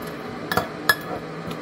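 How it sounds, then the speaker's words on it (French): A spoon mixes a fish seasoning with ground white pepper in a bowl, giving three or four sharp, close metallic clinks in quick succession over quiet. "je mélange le tout"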